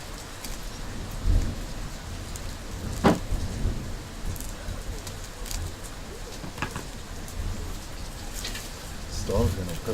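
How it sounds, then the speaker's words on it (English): Steady rain pours down during a thunderstorm, with a few sharp thunder cracks and rumbles breaking through the constant wash of rainfall, heard close and fairly loud with no one speaking. "Storm's gonna put me to sleep."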